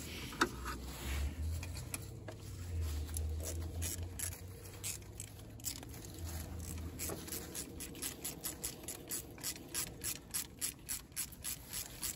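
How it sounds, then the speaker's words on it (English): Mechanical ratcheting as a nut is tightened on the power steering filter housing of a Mercedes-Benz W126/W124/W123/R107; a steady series of close clicks, growing more distinct and rhythmic toward the end, with no talk. "You tighten this nut, don't over tighten it."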